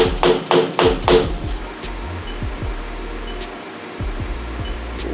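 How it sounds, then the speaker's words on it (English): A machined part is hammered down into a CNC machine vise: a quick burst of sharp, loud metallic blows, then a few sparser, lighter knocks ringing in the workshop. "hammer it."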